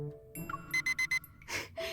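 Electronic beeping of an infrared thermometer from the game Love and Deepspace: a short run of four evenly spaced high tones, then a brief chirp and a noisier burst, clear and close.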